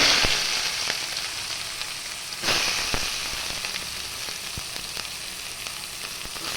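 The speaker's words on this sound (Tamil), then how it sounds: "வெங்காயம் போட்டாச்சு இப்போ வந்து செவுக்கணும்" Finely chopped onion sautés in a pan for a potato masala, a close, steady crackling sizzle that surges briefly partway through, with intermittent ticks from stirring.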